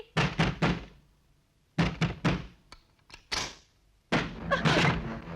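Knocks on a door come in three quick bursts of several sharp raps each, loud and close, with brief pauses between them and no voices.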